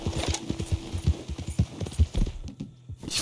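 Horse hooves clip-clop in a steady, close rhythm in the video game Red Dead Redemption 2, the beat briefly thinning out near the end.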